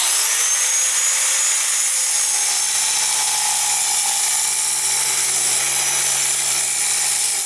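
Cutting tool grinding steadily through the steel front sight of an AR-15 rifle, a continuous loud high-pitched whine and rasp of metal cutting with no break throughout.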